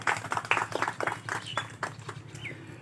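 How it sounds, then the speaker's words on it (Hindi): An audience at a community event in Kalkaji claps to welcome a guest. The clapping is moderate and scattered, with uneven bursts rather than a dense roar, and a faint bird chirp is heard behind it. "एक बार जोरदार तालियों से उनका स्वागत करें।"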